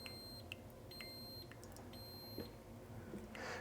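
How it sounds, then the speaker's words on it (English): A Ninja single cup coffee maker signals the end of brewing with three evenly spaced, sustained electronic beeps, each about half a second long, sounding faint over a steady low background hum. "it does beep at the end letting you know that it is finished"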